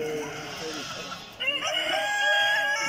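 A rooster at a national poultry exhibition in Bucharest crows in a drawn-out, wavering call, with clucking and other fowl noises around it in a busy, echoing hall.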